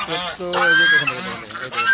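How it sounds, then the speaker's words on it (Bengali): Loud, nasal honking and quacking from several ducks and chickens close by, overlapping in a noisy, continuous chorus, outdoors in heavy fog. "দেখেন হাঁস মুরগিগুলো পাখা মেলে বেশ মজা করছে।"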